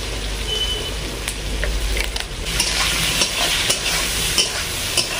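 Ivy gourd frying in a pan with turmeric and salt, a steady crackling sizzle with occasional sharp pops and stirring scrapes, close and loud, no voices.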